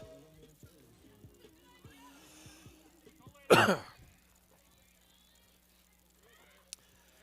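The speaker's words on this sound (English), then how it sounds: "I hate to have you hear me coughing like that" A single loud, harsh cough bursts out partway through, preceded by faint clicks and low background noise, then quiet.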